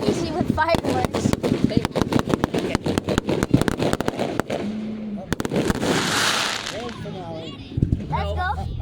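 Fireworks going off at a show in Dewitt, Nebraska, a fast run of sharp cracks and pops with a few louder bursts, heard under steady nearby talk from onlookers.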